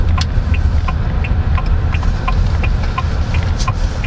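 GWM Haval H6 hybrid SUV accelerating in sport mode, a steady loud engine and road drone heard from inside the cabin, with faint repeated ticking and clicks over it and no talking.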